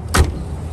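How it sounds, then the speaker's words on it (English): A door on a 1986 Chevrolet El Camino is pushed shut, giving one solid, close thump against a low background hum. "Door shuts nice."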